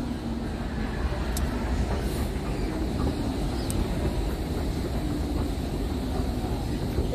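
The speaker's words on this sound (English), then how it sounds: "That's the train." A train moves through a Berlin station with a steady broadband rumble and a few faint high metallic squeals over the ambient hall noise.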